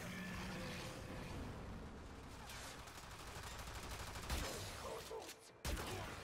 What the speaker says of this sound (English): Now, this is classified as a shotgun, which means the closer you get, the more devastating the thing can be.